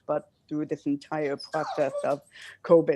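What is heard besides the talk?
dog barking and whimpering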